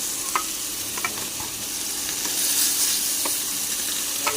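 Five pieces of fish fry in a pan with a constant close sizzle and occasional light pops and stirring taps, with no talking.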